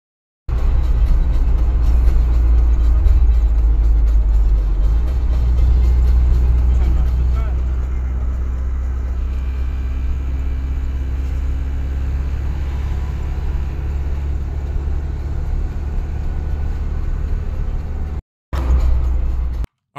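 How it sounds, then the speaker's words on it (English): Military logistics trucks carrying tanks on their backs roll along a road toward the Kursk region, a loud continuous engine and road rumble that holds steady, then cuts off briefly near the end. "showing lots of logistical trucks and tanks on the back of them heading over to what"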